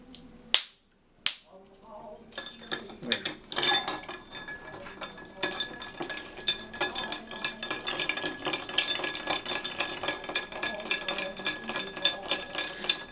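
Ice clinking and clattering steadily against a glass as a martini-style Tuxedo cocktail is stirred, a dense run of close, bright ticks and taps continuing for over ten seconds after a couple of sharp knocks at the start.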